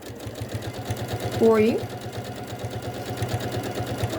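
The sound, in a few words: sewing machine stitching a quilt seam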